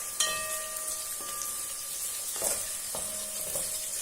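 Chicken frying in oil gives a constant crackling sizzle, broken by several light metallic clinks and scrapes from stirring, close and fairly quiet, with no talk.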